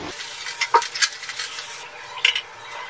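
Hot water stirred into mutton in a pot for biryani, a few brief spoon scrapes and clinks over a soft bubbling sizzle.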